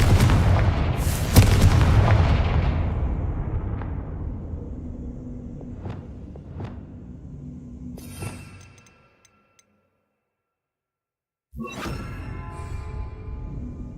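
A Confringo fire spell in Hogwarts Legacy bursts with a loud booming blast that rolls off and fades over several seconds, then a short metallic clatter, a brief silence, and fresh rumbling bursts returning near the end.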